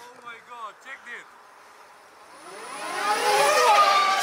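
A clutchless motorcycle ridden like a scooter: a few short voice bursts come first, then the engine's whine climbs steadily in pitch and loudness as it accelerates.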